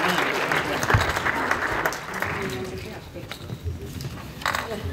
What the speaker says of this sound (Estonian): teeme siis mälumänguritele kõva aplausi veel